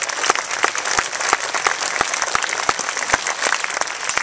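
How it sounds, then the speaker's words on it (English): A crowd applauding steadily after a choral gala concert, dense clapping with sharp individual claps standing out, sustained throughout without a break. "That deserves a big round of applause."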